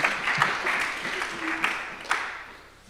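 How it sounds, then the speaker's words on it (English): Audience applause after a conference talk, a moderate burst of clapping in a room that swells and then tapers off over a few seconds. "Little applause, yeah."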